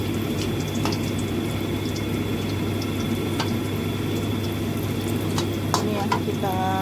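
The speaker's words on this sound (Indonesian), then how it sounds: "ya kita goreng lagi baliknya biar sama warnanya ya, kecoklatan garing merata" Cassava pieces frying in hot oil, a steady close sizzle with occasional stirring clinks and bubbling throughout, no talk over it.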